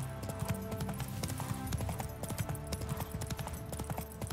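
Horse hooves clip-clop steadily while riding in the video game The Witcher 3 next-gen, a quick, even rhythm of close hoofbeats with game music beneath.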